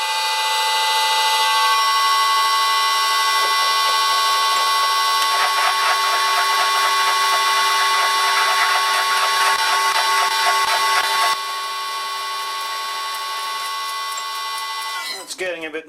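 Steady, loud lathe whine with a grinding, chattering noise building as it drills an 8mm hole in metal, then easing off before it abruptly stops.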